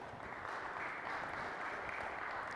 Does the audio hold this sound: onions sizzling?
no